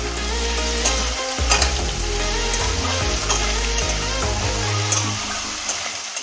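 Washed dried fish pieces fry in a kadai without salt or turmeric, a loud close sizzle with bubbling oil, sputters and repeated scraping stir strokes throughout.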